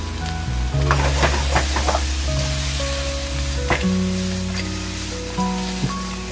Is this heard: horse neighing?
no